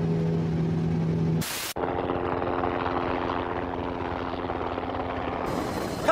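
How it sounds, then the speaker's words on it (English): A helicopter's rotors spin in a loud, continuous droning whir with a steady low pulse, heard alone without talk and briefly cut by an edit partway through. "Helicopter rotors work just like airplane wings."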